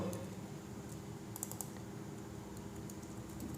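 Soft, steady keyboard typing as code is entered on a computer, a continuous run of light key clicks with a few sharper taps, close and quiet with no talking.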